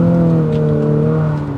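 An Infiniti QX50 engine revs loudly and steadily as the gas pedal is pressed, a sustained close-up harmonic drone holding its pitch for over a second before easing slightly, with no talking over it.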